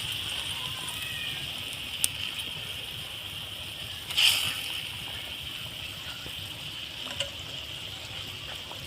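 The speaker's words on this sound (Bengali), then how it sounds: "এর মধ্যে আমি ভেজে রাখা মাছগুলো দিয়ে দেবো দেখুন এইভাবে" Fried fish pieces drop into a boiling curry with a brief splash and bubble near the middle, set against a steady faint simmer and a few small clinks, and a voice talks over it.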